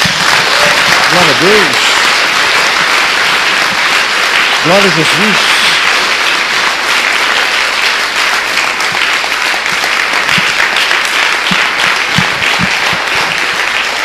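Sustained applause fills a church worship service, loud and continuous throughout, while a preacher's voice calls out praise over the clapping.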